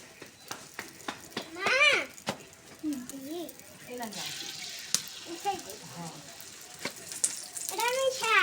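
Eggs frying in a pan for a Bengali home-cooked egg curry with ash gourd, giving a steady sizzle under a voice and other talk, with brief splashes of tap water.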